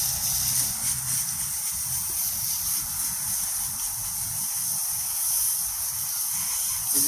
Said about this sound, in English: I'm just going to come and spray it off now.